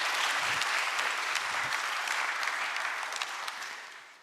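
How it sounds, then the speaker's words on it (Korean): Audience applause at a national policy planning committee's public report event fills the hall with dense, steady clapping for about four seconds, fading slightly at the end. "박수 부탁드립니다."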